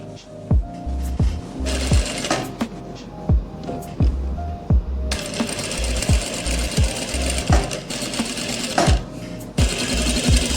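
A sewing machine stitches a round-flared kurti in short bursts, its rapid needle chatter starting and stopping with sharp mechanical knocks between runs, close and loud.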